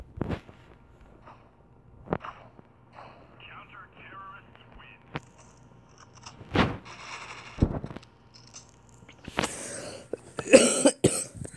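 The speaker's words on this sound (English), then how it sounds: "it's just a little cough today" Several sharp coughs break out over a quiet background during a Critical Ops mobile game session, with a burst of louder coughing near the end.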